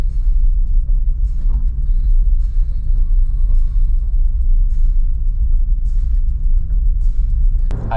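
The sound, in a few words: delivery driver's car driving along a road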